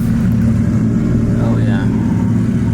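A 2,000-horsepower Lamborghini engine drones loudly and continuously with a deep rumble up close, a rising whine briefly cutting through near the middle.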